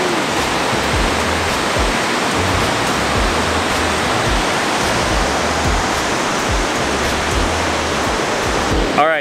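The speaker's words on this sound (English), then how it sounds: "that sound of running water" The Kepler Cascades waterfall pours in a loud, steady rush of running water that fills the whole scene without a break, with a faint low rumble beneath it.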